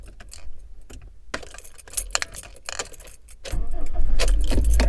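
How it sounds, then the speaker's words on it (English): Car keys jangle in quick metallic bursts close by, then the key goes into the ignition and a low rumble swells up at the end as the car starts. "I got to put these keys in and turn the car on"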